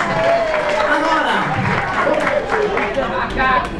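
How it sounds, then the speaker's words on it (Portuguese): An audience at a state LGBT gathering breaks into sustained, dense applause mixed with crowd chatter, with voices talking throughout. "Aplausos"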